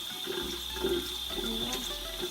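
Tap water runs while old moss is washed from orchid roots, a steady splashing stream with a constant hiss, close and uninterrupted for a couple of seconds.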